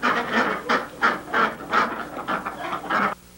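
Pet goose honking, a close, loud series of about nine harsh nasal honks in a quick uneven rhythm, ending abruptly.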